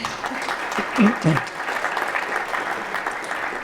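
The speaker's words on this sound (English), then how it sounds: "can we give Jay a big round of applause?" An audience applauds a speaker named Jay after a business talk, a close, continuous wash of clapping throughout, with a brief voice cutting in during the first second and a half.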